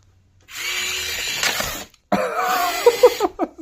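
A UCX24 1/24-scale RC mini crawler driven flat out on sand, its small motor giving a close, loud whining buzz in two bursts separated by a brief gap, with sand spraying and rattling in the second.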